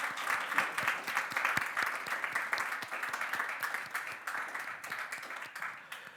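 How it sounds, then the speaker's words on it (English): Audience at a talk on ecology and Christianity gives a round of applause, moderate-level clapping from a modest crowd, sustained throughout with slight swells. "Let's have a round of applause."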